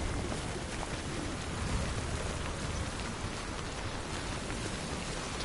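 Timefall rain in the video game Death Stranding, a dense, steady hiss of rainfall pattering on surfaces, even and continuous throughout with no talk.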